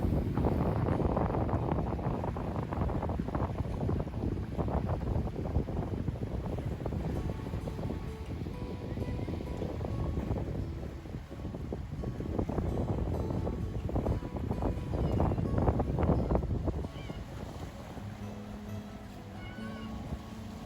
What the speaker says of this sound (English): As you can hear, the wind is beginning to blow